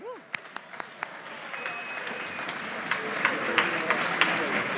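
An audience claps continuously at a spring school band concert, a few sharp isolated claps at first that swell into dense sustained applause, with a brief voice near the start.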